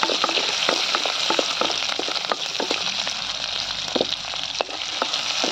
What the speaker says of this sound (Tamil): தாளிக்கிறதுக்கு சின்ன வெங்காயம் போட்டுக்கலாம்